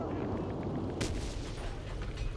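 A bazooka fires at a tank in the World War II shooter Enlisted, giving one sharp, loud blast that cuts through steady rumbling battle noise of engines and distant gunfire.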